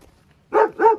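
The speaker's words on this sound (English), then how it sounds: "they're a security dog" Two loud, close barks from a security dog kept in a cage, sharp back-to-back yaps at a lakeside resort with no talking over them.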